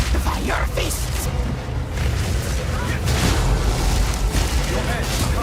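Fire Fists skill attack in the fantasy action game Path of Exile 2, a dense run of booming, fiery impacts and rumbling blasts that hold steady and loud across the whole stretch, with game ambience and a voice talking underneath.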